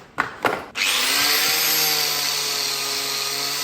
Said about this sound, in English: I'm going over it with the wire wheel, which seems to be doing an okay job